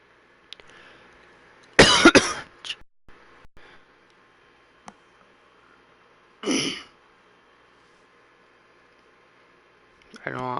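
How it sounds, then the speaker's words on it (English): Sports game commentator coughing: a loud cluster of hacking coughs, then a single cough a few seconds later and another starting at the end, each abrupt against near silence. "I don't know why I'm coughing so much."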